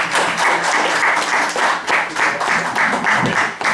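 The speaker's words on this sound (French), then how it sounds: "Applaudissons pour nous-mêmes" Audience at a Belgian press event applauding, loud rhythmic clapping in pulsing waves, close and sustained.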